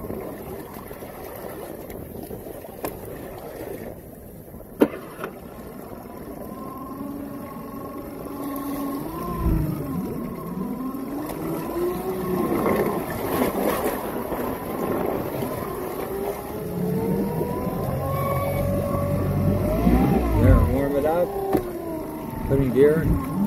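Outboard motor on a 2012 Jetcraft Red Discovery boat running in gear, a droning engine rising and falling in pitch amid wind noise, with a person talking over it.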